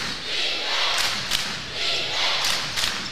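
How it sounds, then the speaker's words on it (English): A crowd at a boys high school basketball game, Paragould Rams against Mountain Home Bombers, chanting defense in rising and falling waves, with occasional thuds on the court. "Crowd yelling defense."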